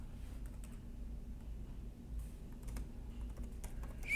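A password is typed on a computer keyboard as a quiet, irregular run of light key clicks over a low background hum, with no speech.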